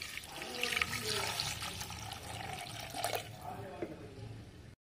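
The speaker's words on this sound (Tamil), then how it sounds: "இதில் ஒரு 2 கப்பு தண்ணி சேர்த்திக்கிங்க." Water pours into a pot of country chicken soup, a steady splashing and trickling stream lasting several seconds and fairly faint.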